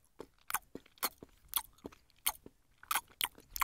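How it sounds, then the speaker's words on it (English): Caterpillar eating, heard as a close, crisp series of irregular crunching bites and munches, quiet overall with short pauses between the sharp chews and no voices. "Can you hear that crunching and munching?"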